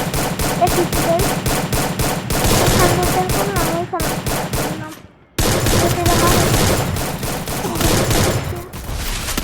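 Rapid gunfire bursts while killing enemies in the mobile battle-royale game Free Fire, loud and dense, with repeated volleys over game music, a brief dropout near the middle, then more sustained shooting.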